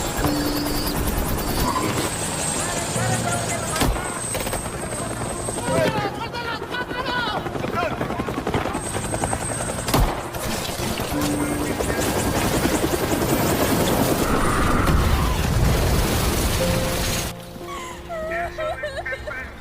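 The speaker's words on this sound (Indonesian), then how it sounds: "Para anggota Pablo bergerak cepat melepaskan burung-burung dara agar kemudian menabrak helikopter dan merusak mesin helikopter" Helicopter engine in a Pablo Escobar film scene where pigeons are released to strike it and damage its motor, a loud sustained rotor and engine roar beneath dramatic music and talk.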